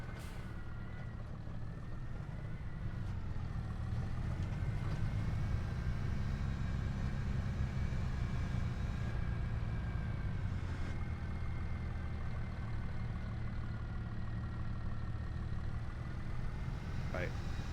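Large tractor engine idling steadily with a low rumble in a logging video game, running continuously through the whole stretch at a constant level with no speech over it.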